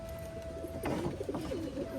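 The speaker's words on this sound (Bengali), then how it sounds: "এরকম মেঘলা ওয়েদারে পায়রার জন্য আমি ছাড়ি না" Domestic pigeons on cloudy, damp weather after rain give soft, low cooing calls, a few rounds close by over steady outdoor background, with a faint tonal hum running through.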